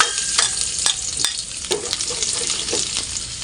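Garlic fries in hot oil, a steady close sizzle broken by repeated sharp scraping and stirring strokes, with no talking.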